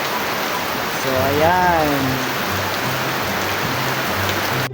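Steady rain falls as a dense, even hiss at a pigeon loft in Caticlan, Aklan, during a race, continuous throughout with someone speaking briefly over it.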